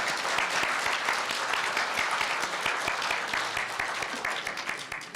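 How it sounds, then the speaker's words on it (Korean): At a 70th anniversary ceremony for a university newspaper, the audience gives sustained applause for an award plaque, a steady crowd clapping with individual sharp claps audible, heard from within the hall and slowly tapering. "큰 박수로 축하해 주시기 바랍니다"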